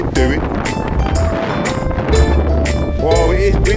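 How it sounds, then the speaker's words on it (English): Gusty wind buffets the microphone with a steady low rumble, while music and voices play faintly underneath. "Whoa, it is windy, people."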